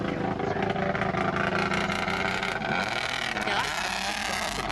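A loud, rough rally car engine roars continuously up close, sputtering and uneven, with a commentator's voice talking over it.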